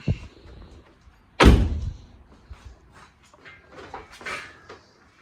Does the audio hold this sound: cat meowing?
no